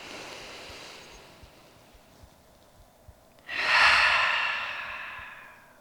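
Yoga group breathing in together: quiet room tone, then a strong, airy inhalation swells suddenly and slowly fades, close and unaccompanied by talk.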